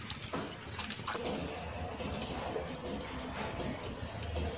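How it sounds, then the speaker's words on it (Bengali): Tap water runs and splashes in a sink while hilsa fish and prawns are washed, a faint continuous wash with small spattering bursts and occasional quiet voices. "ইলিশ মাছ, চিংড়ি মাছ এগুলো সব ধুয়ে নিয়ে"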